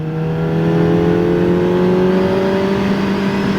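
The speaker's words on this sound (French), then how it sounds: "Entendre ce moteur chanter." A QJ Motor SRK 421 RR four-cylinder motorcycle engine revs high and smooth, its pitch climbing steadily as it pulls through third gear, loud and close with a constant whirring tone.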